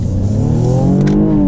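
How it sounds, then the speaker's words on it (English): A six-cylinder all-wheel-drive car accelerating hard, the engine note climbing steadily in pitch as it revs up, loud and close with no talking. "Now this car gets up and goes."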